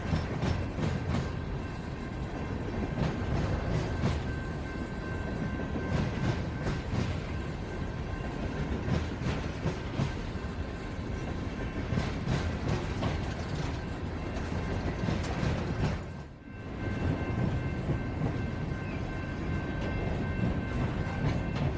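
A slow-moving CSX freight train rolls past close by, a steady continuous rumble with rail clatter and a faint high squeal throughout, briefly dipping before resuming.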